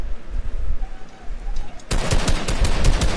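Rapid bursts of automatic gunfire in the video game Fortnite erupt after a quieter stretch, loud and dense, with no talk over the shots.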